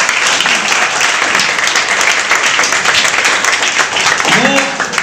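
Audience at a gathering applauds loudly and steadily, a dense sustained wash of clapping from a crowd throughout, with a brief voice rising near the end.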